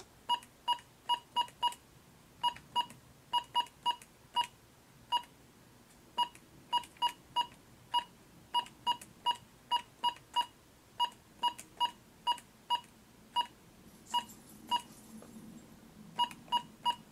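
Microprofessor MPF-1B Z80 single-board computer beeping from programmed sound output, a rapid series of short, sharp tones in uneven rhythm, faint and close, with no talking.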